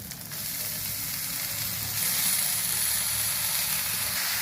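Chopped spinach tipped into onions frying with ginger-garlic paste in a pan gives a steady, loud sizzle and hiss that swells brighter partway through, with no talking.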